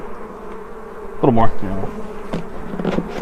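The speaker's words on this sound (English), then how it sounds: "one of these frames is just overflown with bees and drawn out comb" Honey bees buzz and drone around hive frames heavy with drawn comb during a package install, the buzzing swelling close by as people talk briefly.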